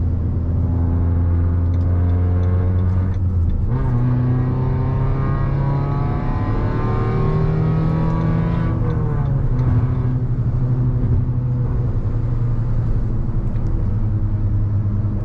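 Maruti Brezza exhaust on a hill road trip, a steady low engine drone with gear-change shifts in pitch and faint crackles, heard from inside the car with no talk.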